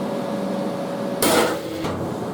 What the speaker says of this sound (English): give it a little tap with a hammer